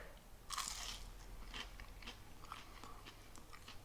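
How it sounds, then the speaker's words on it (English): Someone takes a crisp bite of a crunchy hash brown made from grated mashed potato, a sharp crackling crunch followed by quieter chewing crunches, heard up close but faint with no talk. "So let's have a bit of a taste, see how we go. Oh, crunch."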